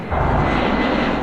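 Airplane engine roar, a broad steady rumbling whoosh lasting just over a second, loud and close with no voices.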